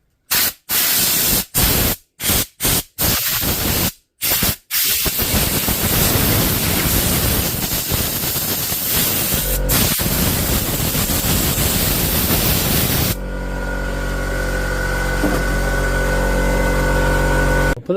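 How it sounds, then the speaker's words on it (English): An air compressor nozzle blasts air to dry a part from a DeWalt power tool, opening with several short, loud bursts and then a long continuous hiss that ends abruptly, leaving a low motor drone. "I'll use the compressor to maybe dry that off."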